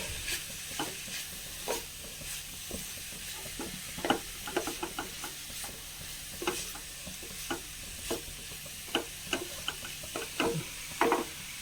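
A spoon stirs a Kerala-style side dish in a pan, scraping in irregular taps and clacks over a soft, steady sizzle, moderately close with no voices.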